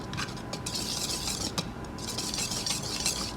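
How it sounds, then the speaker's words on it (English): Dry cookie ingredients are whisked by hand in a bowl, a quiet, continuous scratchy rustle of wire tines stirring through powder with light rhythmic scrapes, and no voices. "you can just take your whisk without using your mixer, and you just want to give it a mix"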